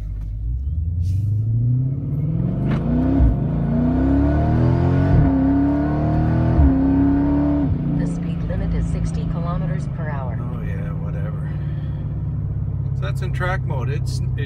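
An SRT Jeep fitted with a Kooks exhaust revs and accelerates, a loud deep burbling roar climbing through gear shifts, then easing to a lower drone, with someone talking over it.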